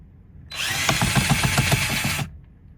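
A power tool drives out a steering wheel lug nut on a Mustang during a carbon fiber steering wheel install, giving one steady, loud whirring burst of about two seconds with a rattling pulse, then stopping.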